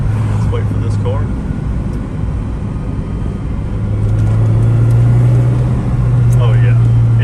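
A car engine hums steadily nearby and swells as the vehicle draws closer, with brief chirps and faint background noise around it.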